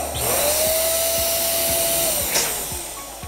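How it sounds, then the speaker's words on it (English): A small electric balloon pump whirs loudly and steadily as it inflates a 12-inch latex balloon, with a faint ticking rhythm underneath and the motor tone shifting slightly near the end. "I'm going to use my electric pump."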